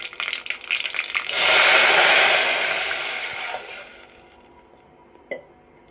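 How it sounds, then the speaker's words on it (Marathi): Water poured into a hot mustard seed and cumin tempering bursts into a loud, rising sizzling hiss that swells, then slowly fades over several seconds, ending with a small clink. "जिरे चांगले फुलले की आपण त्याच्यामध्ये 1 तांब्या भरून पाणी टाकू।"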